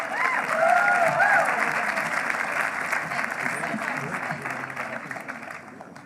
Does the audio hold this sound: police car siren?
no